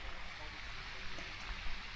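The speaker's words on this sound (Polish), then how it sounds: "O fontannę też włączyli." A fountain runs beside an outdoor fish fry restaurant, producing a steady, moderately loud rush of splashing water that fills the whole moment.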